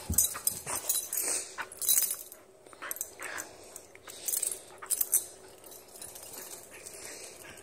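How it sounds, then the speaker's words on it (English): A playful husky whimpers and yelps in short bursts, with jingling tags and scuffling between cries, close by and fairly quiet. "Oh, she's a mean dog."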